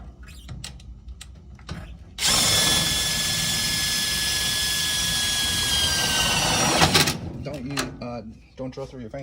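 A power drill driving into a furnace while mounting an Aprilaire 500 humidifier, a loud sustained whine running about five seconds, with shorter bursts and handling noise before and after.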